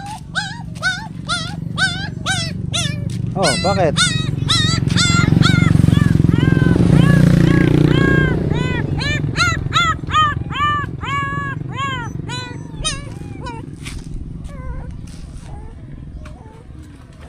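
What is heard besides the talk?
puppy whimpering and dogs barking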